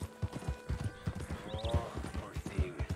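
Horse hooves clip-clopping in Red Dead Redemption 2, brisk close rhythmic steps with a brief whinny rising in the middle.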